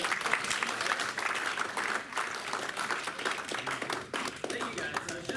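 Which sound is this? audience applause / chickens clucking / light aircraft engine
audience applause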